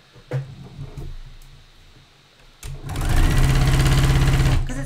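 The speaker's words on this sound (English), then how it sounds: "We just sew together the front panel seams, and then we sew the front to the back, sew on the strap" Sewing machine stitching swimsuit seams, starting after a few quiet clicks and handling sounds, then running in a loud, close, steady rapid whir for about two seconds before stopping.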